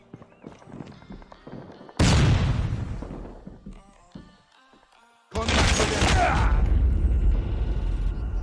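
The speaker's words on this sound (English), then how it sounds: "Flashbang!" A flashbang grenade goes off in the Call of Duty multiplayer video game, giving two loud, broad bursts, one at about two seconds that fades over a few seconds and another at about five seconds, with quieter game noise in between.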